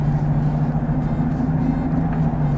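A Nissan Patrol Y60 off-roader braking hard, heard from inside the cabin with the sunroof open as a steady, loud low engine and road rumble runs throughout without a clear skid.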